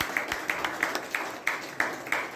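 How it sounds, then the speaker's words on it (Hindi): Applause for Mr. Satish Kumar Raj at a Hindi motivational talk, a steady rhythmic clapping of roughly three beats per second, moderately loud and fairly close, with no talk over it. "जबरदस्त ताली होना चाहिए मिस्टर सतीश कुमार राज जी के लिए"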